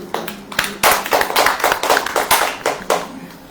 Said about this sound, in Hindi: ताली बजाएंगे कि नहीं?